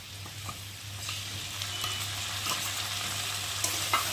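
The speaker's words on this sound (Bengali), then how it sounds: "দিয়ে একটু ভালো করে কষিয়ে নেবো, নেড়ে নেবো।" Potatoes being stir-fried in a pan with salt, turmeric, chilli powder, ginger paste and cumin paste, a soft even sizzle with light stirring scrapes over a low steady hum, fairly quiet and with no speech.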